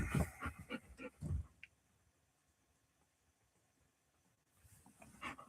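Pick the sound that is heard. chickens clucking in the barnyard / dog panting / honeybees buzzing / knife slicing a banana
dog panting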